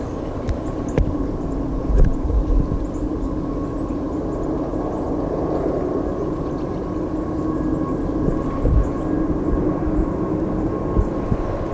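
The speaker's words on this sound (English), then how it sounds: "Guess I'm gonna have to wait a bit for this train." A low, steady rumble of a passing train fills the scene, droning continuously with faint metallic clanks and occasional thumps.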